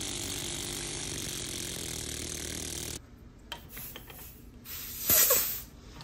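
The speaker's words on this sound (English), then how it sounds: "The engines are not running very well. They're just running really, really fast." A small air-powered syringe engine running very fast, a rapid, dense mechanical buzz and rattle for about three seconds that cuts off abruptly, followed by quieter scattered clicks and a brief hiss of air.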